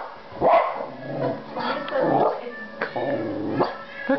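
A dog barking and yipping at Jingle Cats on television indoors, several close, loud barks mixed with whimpers in an uneven rhythm.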